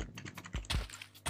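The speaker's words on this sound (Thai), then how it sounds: "เงียบเสียงคลิกเมาส์เบาๆนะพี่ผมได้ยินนะ" A computer mouse clicks a few times in quick, light taps during Minecraft play. The clicks are faint and close, with no talk.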